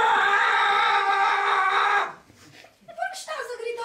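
A voice imitates a rooster crowing, pushing out a loud, strained, scream-like call for about two seconds, followed by a short pause and then a bit of speaking.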